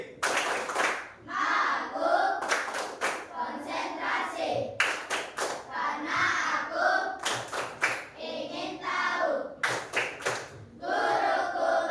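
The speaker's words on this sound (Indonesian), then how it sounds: "Tepuk 1, tepuk 2, tepuk 3, tepuk 4, tepuk 5" A group of children claps in a counted rhythm during a classroom clapping game, five sharp bursts of unison claps separated by chanted voices.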